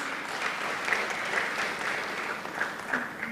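An audience at the Kampala Geopolitics Conference gives a speaker a round of applause: steady, moderately quiet clapping from a hall crowd, continuous throughout with a few sharper claps standing out.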